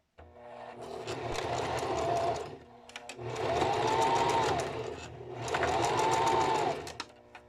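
A sewing machine stitches fabric for a bralette in three steady runs of rapid mechanical chatter, each lasting about two seconds, with short pauses between them and no talk over the stitching.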